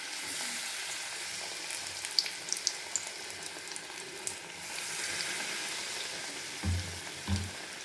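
Batter-coated eggplant slices (beguni) frying in hot oil in a kadai, giving a steady soft sizzle with a few sharp pops and crackles and some heavier low bumps as slices drop in near the end.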